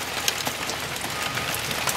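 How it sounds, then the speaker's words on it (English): Pouring rain drumming on a fishing boat, a dense, steady patter of drops with scattered louder spatters, constant and close throughout. "It is pouring rain."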